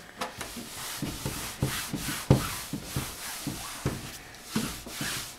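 An old t-shirt rubs wax across a guitar amp cabinet in close, rhythmic swishing strokes, about two a second, soft and dry with a slight thump as each stroke starts.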